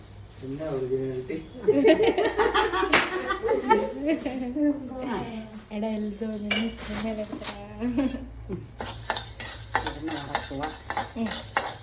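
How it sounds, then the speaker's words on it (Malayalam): Urad dal being dry-roasted in a pan for chammanthi podi, with steady stirring, scraping and clinking of a utensil against the metal pan, loud and close, while a voice talks over it. "ഇത് ഉഴുന്ന് ഇടുക, വറുത്ത് പൊടിക്കുക."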